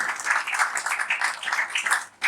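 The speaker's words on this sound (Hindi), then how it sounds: "एक और जोरदार ताली मांगी मैंने, जोरदार ताली यार, जोरदार ताली।" A crowd at a Hindi poetry open mic in Delhi claps loudly and continuously, a dense roar of applause that fades out right at the end.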